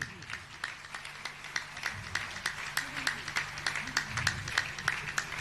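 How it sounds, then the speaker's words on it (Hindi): An audience claps in a steady, rhythmic beat at a gathering honouring a Jain monk, the claps evenly spaced and moderately loud, with a faint voice underneath. "आप तालियां जोरदार देनी चाहिए।"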